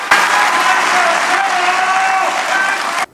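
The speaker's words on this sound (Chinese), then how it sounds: "全场鼓掌超过10秒钟" Audience applauding at the Golden Horse Awards ceremony, loud sustained clapping from a large crowd that starts abruptly and fills the hall evenly before cutting off.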